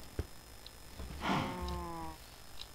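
A cow mooing in the video game Minecraft, a single drawn-out low moo lasting about a second, preceded by a soft thump, with faint game sounds around it.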